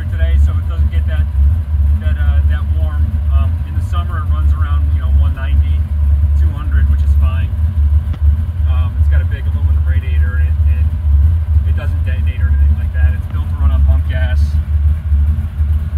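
Loud, steady idle rumble from a 1965 Nova wagon's 409 engine with a flat tappet cam and stroker crank, running continuously while someone talks over it.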